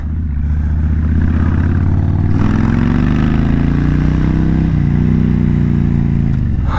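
A Kawasaki VN 1600 Mean Streak cruiser motorcycle rides on a highway, its engine droning loud and steady, pitch rising as it accelerates, with wind rush over the engine and no talking.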